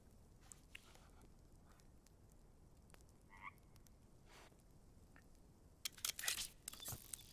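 Frogs croak in a mine area of the VR video game Wanderer, scattered calls repeating over a quiet ambient bed, with a louder crunching burst near the end.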